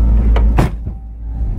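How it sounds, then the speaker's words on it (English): A single heavy car door slams shut with a solid thud, preceded by a softer knock, over a low idling engine rumble. "Gotta slam that door."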